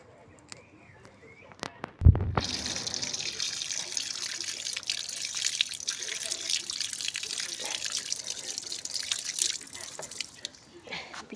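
Water runs steadily from a tap or spout beside a samovar of first-of-the-year tea brewed with wild thyme, a continuous hiss with drips, following a brief knock; faint talk sits underneath.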